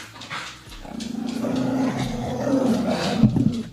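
A dog lets out rough, throaty growling barks, close and continuous, with a rising edge near the end.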